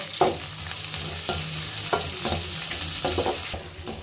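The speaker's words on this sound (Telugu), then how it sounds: "ఇప్పుడు కరివేపాకు వేసుకుందాము, 2 రెమ్మలు." Two sprigs of curry leaves crackle and sizzle in hot oil for vegetable fried rice, a close, steady frying hiss broken by a handful of sharp pops and spatters, with no voices.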